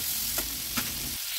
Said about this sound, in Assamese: নিমখ হালধি বিলাহীখিনি ভাজি লৈছোঁ